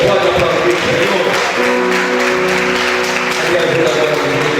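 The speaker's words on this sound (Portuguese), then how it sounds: "Você pode aplaudir o Senhor?" A church congregation applauding during a Portuguese-language service, a sustained wash of clapping from many hands, with a voice or tones sounding over it.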